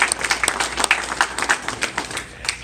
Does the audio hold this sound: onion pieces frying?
no